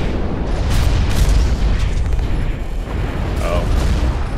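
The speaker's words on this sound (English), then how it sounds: "I hate these frickin' homing rockets they have" Homing rockets exploding in the mech video game Hawken, a dense loud rumble of blasts and booms filling the whole stretch, with a few sharper cracks on top.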